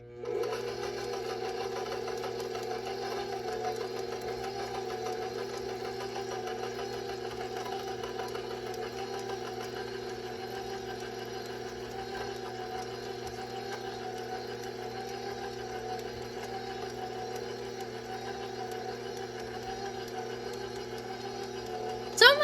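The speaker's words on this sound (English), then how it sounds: "I'm going to mix this until all my ingredients are combined." Electric hand mixer beating rum cake batter in a bowl, a steady continuous whir with a constant motor hum that runs unbroken at close range for the whole stretch, with no talk over it.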